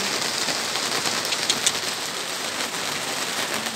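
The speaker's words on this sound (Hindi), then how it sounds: "देखिए कितनी तेज़ बारिश हो रही है।" Heavy rain drumming on surfaces outside a shop on a muddy street, a constant dense hiss with occasional louder drops, close and loud throughout with no talk.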